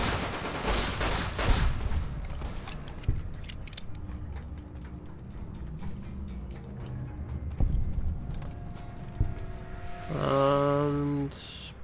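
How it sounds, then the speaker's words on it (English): Gunfire in the video game Fallout: New Vegas rattles in a rapid close volley, then scattered single shots and mechanical clicks follow, ending with a brief tonal chime. "shooting's coming from over here"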